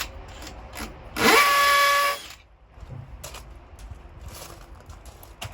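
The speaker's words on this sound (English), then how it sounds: "we'll use the same drill that we use to drill through the plastic, and we'll go into the central hole first" A power drill whines up once into a concrete gate post for about a second, loud and close, followed by quieter handling clatter.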